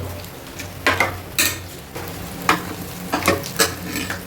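Paneer frying in a pan with scraping and stirring clatter over a low sizzle, several bursts of utensil noise against the pan, close and moderately loud.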